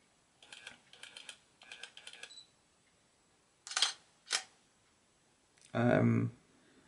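Close, quiet whirring and clicking of a faulty Sigma 17-50mm lens autofocus motor hunting in short repeated bursts, separated by pauses, ending with a louder mechanical burst.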